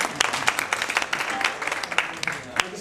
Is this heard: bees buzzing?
no